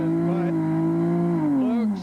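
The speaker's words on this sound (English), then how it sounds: "Listen to that motor go up in that car. Boy, I'll bet that clutch is burning." A race truck's engine stuck in place at the 1991 Gold Coast 300 in Las Vegas holds a loud, high, steady revving drone, then drops in pitch near the end, with faint talk underneath.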